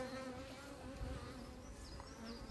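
Honeybees buzzing steadily at a beehive, a dense continuous drone from many bees close up, fairly quiet and with no voices.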